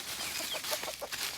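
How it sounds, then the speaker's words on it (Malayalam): Chickens clucking in short repeated bursts, fairly close and fairly loud, with no voices over them, on an outdoor village path on the way to a pond. "കോഴിക്കളൊക്കെ നമുക്ക് പാറി പോകുന്നുണ്ട്"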